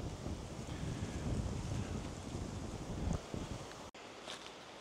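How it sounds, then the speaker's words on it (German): Heavy wind rushes through forest treetops on a woodland walk near Lake Vänern in Sweden, a soft, distant, continuous roar that swells and eases, with one brief dropout near the end. "Da oben rauscht es wie wild vor dem heftigen Wind."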